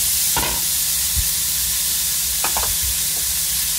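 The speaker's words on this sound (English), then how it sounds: "Stir those together and saute for about 5 minutes" Steady sizzling of onion and garlic sautéing in a large frying pan, with a few clinks and scrapes of stirring utensils.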